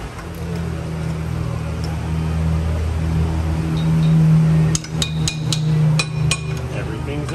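Metal brake parts on a 1998 Ford Expedition take a quick series of sharp hammer strikes, about eight close clanks bunched in the last few seconds over a low steady hum.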